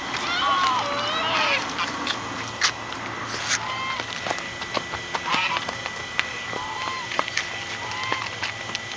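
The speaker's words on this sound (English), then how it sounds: "There's a lot of ducks today" Ducks quack intermittently amid outdoor bustle, with footsteps and scattered background noise around them.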